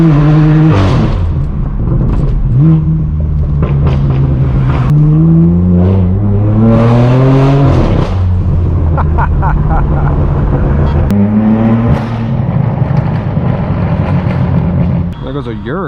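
A straight-piped BMW M4 drives through Hollywood with a loud, droning exhaust, revving up and down repeatedly and rising in pitch with each acceleration, close and continuous throughout.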